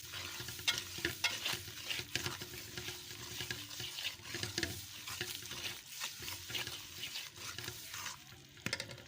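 Milk powder being stirred into a burfi mixture in a pan, soft irregular scraping and thick bubbling sizzle, fairly quiet and continuous.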